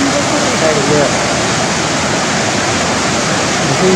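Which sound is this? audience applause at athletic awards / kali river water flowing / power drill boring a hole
kali river water flowing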